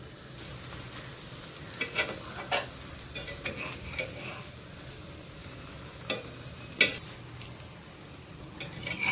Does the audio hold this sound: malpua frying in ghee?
yes